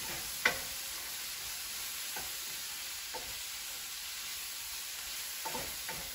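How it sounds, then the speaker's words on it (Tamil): Ivy gourd curry fries quietly in a pan on low heat, a faint steady sizzle broken by a few soft scrapes and taps of stirring, with no voices. "இனி கொஞ்சம் பிரட்டி அவிய விடுவோம்."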